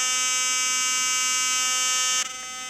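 A Philips Sonicare OptimalClean rechargeable electric toothbrush running at low intensity gives a steady, close, high-pitched buzzing hum that cuts off abruptly near the end.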